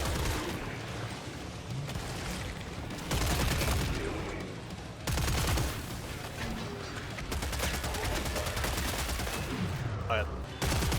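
Rapid bursts of AK and SCAR rifle fire from the video game Killing Floor 3, dense and continuous through most of the stretch, with brief pauses and a voice speaking at times beneath the shooting.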